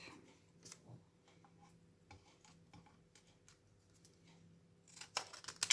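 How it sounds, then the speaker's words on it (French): Scissors snip through a paper label with quiet, scattered cuts close by, ending in a quicker flurry of snips against a hushed room. "je vais venir découper mon étiquette"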